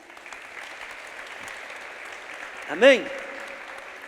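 A church congregation claps softly in the background for several seconds while a preacher briefly calls out over it.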